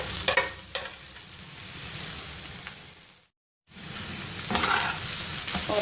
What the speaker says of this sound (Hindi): और अब मैं इसके साथ मिक्स कर लूँगी।